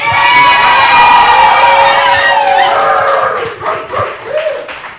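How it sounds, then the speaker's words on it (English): A crowd cheers loudly for a girls lacrosse team, with shrill children's shouts and whoops at full strength that thin out into scattered yells and a few claps toward the end. "I'm asking once again to give them a round of applause, show them some love."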